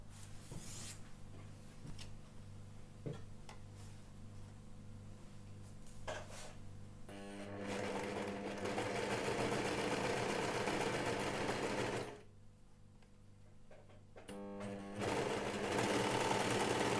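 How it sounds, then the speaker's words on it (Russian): An overlock serger stitches knit fabric for a sports top in fast, steady whirring runs. The hum stops briefly partway through, then starts again, with soft handling noises in the pauses. "Все, я строчку проложила, прокладывала в одну линию, чтобы увеличить скорость пошива."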